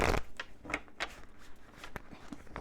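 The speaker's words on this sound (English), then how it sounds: "And so I'm going to shuffle." Tarot cards shuffled by hand, giving a quick run of soft papery slaps and riffles with an uneven rhythm, close and clear, with no talking.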